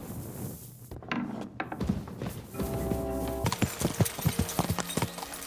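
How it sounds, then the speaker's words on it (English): Horse hooves in Kingdom Come Deliverance 2: scattered thuds and clip-clops at first, then a rapid, rhythmic galloping beat that carries on loud and close to the end. "This horse is so fast, man."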